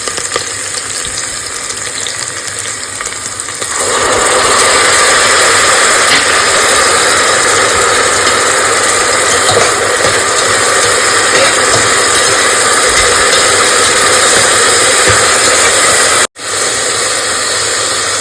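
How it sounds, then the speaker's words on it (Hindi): Onion and ginger-garlic paste fry in a pan for a soybean egg biryani, a steady, loud broadband sizzle that swells after a few seconds and holds with no talking, then drops out briefly near the end. "ये अदरक लहसुन का पेस्ट और प्याज हमारा दोनों ही अच्छे से भून गया है"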